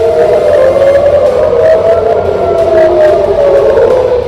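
A loud, continuous siren wails, rising and falling in pitch, filling the whole clip with no speech, sounding as an earthquake and tsunami alert in Japan.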